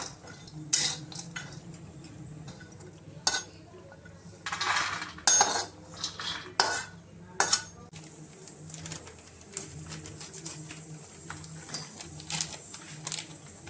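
Pistachios are dry roasted in a pan, stirred with clattering, scraping metal knocks in uneven bursts, while soft pigeon-like cooing carries in the background; no talking.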